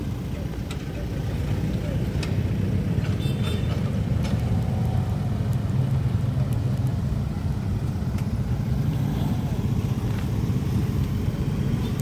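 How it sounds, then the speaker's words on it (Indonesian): Steady low rumble of cars idling and creeping through a crowded traffic queue at the reopened Batu Jomba road, a continuous engine drone lasting throughout with no clear voices. "Iya, mobil sudah maksa terus ya untuk lewat."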